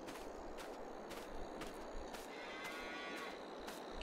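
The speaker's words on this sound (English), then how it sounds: "then we visit our new cows" Cows mooing in the farming game Farming Simulator 22, several moderate calls repeating at roughly half-second intervals over a steady, noisy outdoor ambience.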